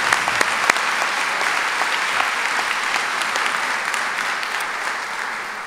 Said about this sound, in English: So if we can give them one more round of applause.